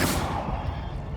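A Bombarda blasting spell explodes in the Hogwarts Legacy video game, a close, booming burst that fades into a rumbling low tail.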